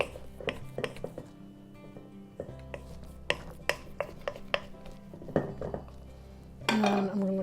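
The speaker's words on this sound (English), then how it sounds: "we're gonna just scrape the sides a little bit" A spatula scrapes the sides of a bowl of smooth, buttery dough for a Polish plum crumble cake, making a series of light clinks and scrapes that end in a louder rustling burst.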